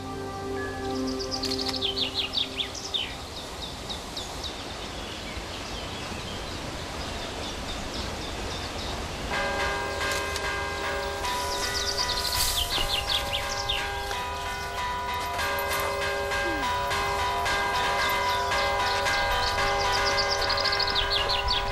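Church bells ring out in Villavante, a village known for its bell-ringers' competition. Birds chirp through the opening seconds, then clear sustained tolling tones take over and keep sounding to the end.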